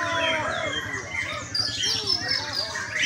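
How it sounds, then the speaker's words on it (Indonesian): Competition songbirds at a bird-singing contest chirp and trill in dense, overlapping phrases at moderate distance, with a canary's song mixed among them and faint crowd talk underneath. "Dia mah kenari lagi jelas soalnya."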